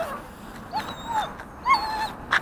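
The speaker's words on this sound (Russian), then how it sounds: "Упирается и скулит, и плачет." A dog balks on a leash outside and whines, giving several short, high rising whimpers and yips spaced apart, fairly close against a quiet background.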